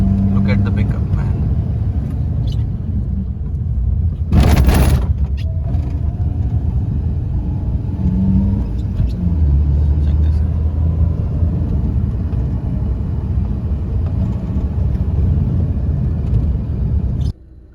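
A CNG-powered car's engine drones with a constant, loud rumble from inside the cabin, and a short burst of noise cuts in partway through. A person talks over the running engine.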